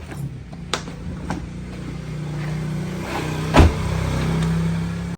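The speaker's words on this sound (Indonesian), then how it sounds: "Nah, kita hidupkan mesinnya" A 1995 Toyota Kijang's engine starts with a brief thump and settles into a low, steady idle that rumbles on, with a few faint clicks before it.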